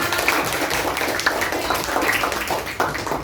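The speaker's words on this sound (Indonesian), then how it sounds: "Tepuk tangan untuk kita semua." A classroom of students claps together, a dense, continuous patter of many hands close by that holds at an even level throughout.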